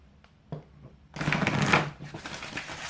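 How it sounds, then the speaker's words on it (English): Angel Therapy oracle cards being shuffled by hand, a brief soft riffle at first, then a dense, close papery flutter and slapping that fills the rest of the moment. "I'm going to pull from the Angel Therapy cards."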